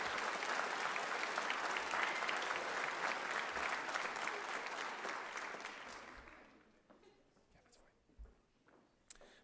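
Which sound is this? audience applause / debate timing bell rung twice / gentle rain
audience applause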